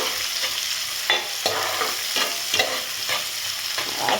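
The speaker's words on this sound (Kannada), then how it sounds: "ಈರುಳ್ಳಿ ಎರಡು ಒಟ್ಟಿ ಹಾಕಿ ಸ್ವಲ್ಪ ಹೀಗೆ ಫ್ರೈ ಮಾಡಬೇಕು" Sliced onion and green chillies fry in a pan while a spoon stirs them, giving a steady sizzle broken by regular scraping strokes about every half second, close and clear with no voices.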